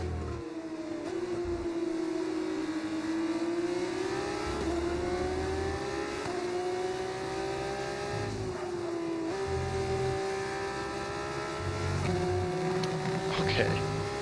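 F2 race car in a racing video game, its engine note steady and high with small dips and rises as it brakes and accelerates, droning continuously throughout.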